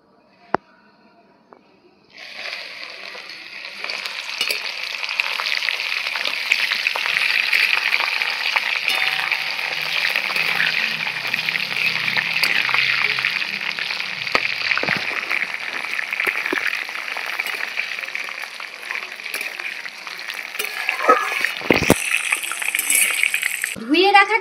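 Washed hibiscus flowers drop into hot oil already frying fenugreek and nigella seeds, setting off a loud, steady sizzle that holds for over twenty seconds, with a brief clatter and stirring near the end.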